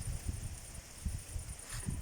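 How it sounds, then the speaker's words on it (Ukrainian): Steady wind gusting outdoors, with low rumbling buffets rising and falling in waves and a constant airy hiss. "Ось бачите, який у нас вітер піднімається."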